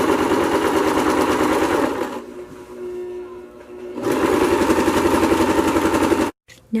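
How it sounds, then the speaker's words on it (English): A sewing machine runs a zigzag stitch over a seam edge on a vintage circle skirt, a close, fast mechanical whir that pauses briefly in the middle, then resumes before stopping abruptly. "I am going over the edge of the seam with a zigzag stitch"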